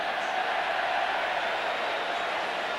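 A record crowd of over forty thousand at a Widnes versus Bradford rugby league premiership final makes a steady, distant roar, a broad even wash of voices with no single shouts standing out.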